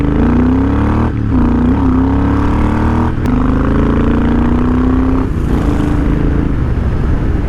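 A Triumph Thunderbird 1700 large-displacement parallel twin motorcycle pulls hard under throttle, its loud, deep engine note rising steadily in pitch through a couple of gear changes, heard up close with continuous wind rush.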